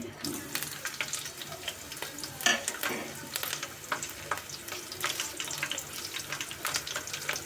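Onions and green chillies hit hot oil for a tempering, giving a steady broadband sizzle and crackle with a few sharper pops and faint utensil clinks throughout.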